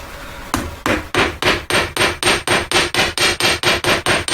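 A jeweller's hammer taps a metal ring on a bench, one sharp strike, a short pause, then about fifteen steady ringing blows at an even brisk rhythm, loud and close with no voices.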